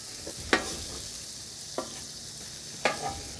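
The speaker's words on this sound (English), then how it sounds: "once some of the onions cook around the edge, I like to just kind of get them back up onto the burger" Sliced onions sizzle on a hot griddle beside patty melt smashburgers, a steady close frying hiss broken by three sharp scraping stirs as a spatula pushes them around.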